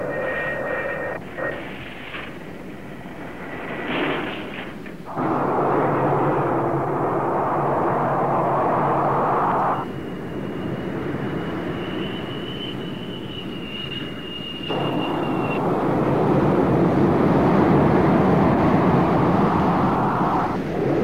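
An F-4 Phantom II jet lands on an aircraft carrier deck and catches the arresting wire, a loud sustained engine roar that surges and drops in stages with a thin high whine, alone without voices.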